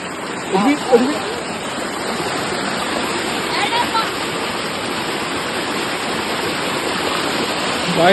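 Water rushes steadily over rocks at a hidden stream spot, a loud continuous broadband roar with brief faint voices near the start.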